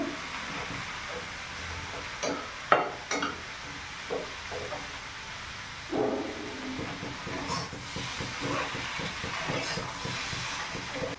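Food fries in a kadai with a continuous hiss and sizzle, broken by scraping stirs and a few clanks of the spoon against the pan close by.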